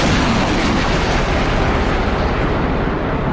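A warning shot fired in the DCS World combat flight game produces a dense, continuous booming rumble that fills the whole stretch at high level, with no voices over it.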